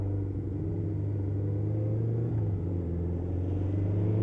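A BMW 7 Series accelerates away on a road, its engine making a steady, close, low rumble that holds throughout with a slight rise near the end.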